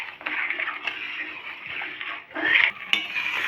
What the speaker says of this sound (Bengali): ছানাটা এবার দুধের সঙ্গে ভালো করে গুলে নেব।